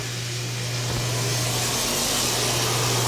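A bathroom exhaust fan runs over the toilet of a guest bathroom in a house, making a steady broadband whoosh with a low motor hum that holds evenly throughout.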